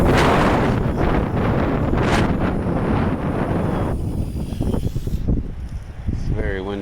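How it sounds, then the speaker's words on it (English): Strong wind buffets the microphone in heavy, continuous gusts, roaring loudly throughout, with a person speaking faintly beneath it toward the end. "it's very windy out here today"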